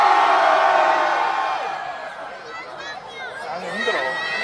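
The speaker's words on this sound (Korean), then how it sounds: "4학년 소리 질러!" Students in a university festival concert crowd scream and cheer loudly, a dense roar that eases slightly midway and then swells again with scattered whoops.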